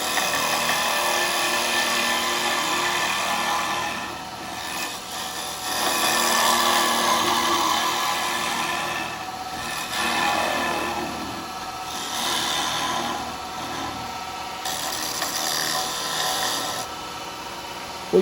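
A woodturning gouge cutting a natural edge wood bowl on a lathe, flat on the tool rest, giving a steady loud rasping, scraping hiss that swells and eases in waves over about eighteen seconds with no talk.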